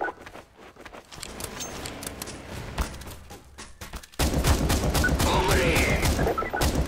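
Counter-Strike: Source gunfire, scattered shots and clatter at moderate level, then an abrupt jump into loud, continuous rapid firing that holds to the end.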